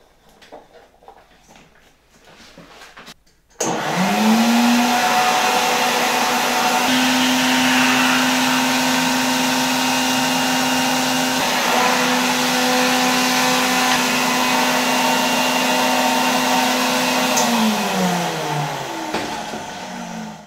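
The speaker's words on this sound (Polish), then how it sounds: "naprawdę nieźle ciągnie ten odkurzacz" An old Saturnas vacuum cleaner with freshly replaced motor brushes switches on with a sharp whoosh and runs loud and steady, its motor whine holding an even pitch before slowing slightly at the end.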